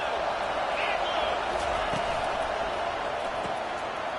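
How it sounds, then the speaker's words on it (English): A football stadium crowd keeps up a steady, dense roar from start to finish, a broad wash of many voices with no single voice standing out. "This crowd bringing the energy and noise early."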